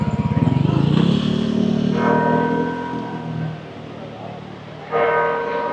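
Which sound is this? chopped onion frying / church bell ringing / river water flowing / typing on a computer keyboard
church bell ringing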